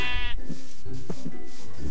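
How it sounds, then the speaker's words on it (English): Sheep in a video game bleat in a few short, loud calls close by, one after another with brief gaps and no talking over them. "There's some more sheep, some more cow."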